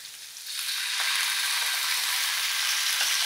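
Ingredients being stir-fried in oil, a steady, bright sizzle that swells after the first half second and holds at an even loudness, with faint stirring underneath and no talking.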